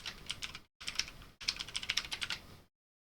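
Quick, light clicking of a computer keyboard, close and quiet, typed in three short bursts separated by brief pauses before it stops.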